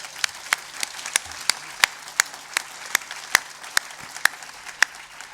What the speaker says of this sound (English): So a round of applause for Kit Downs, please.